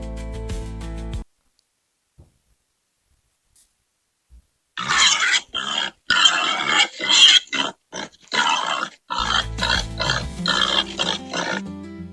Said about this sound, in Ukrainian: О, це сім'я свинок нас завітала